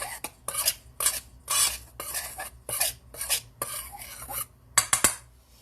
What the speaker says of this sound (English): we're just going to kind of stir that together